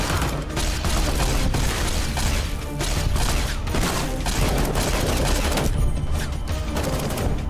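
A scouting laser rifle fires in a modded Fallout New Vegas battle, a dense continuous barrage of crackling shots and booms with little pause, loud and close.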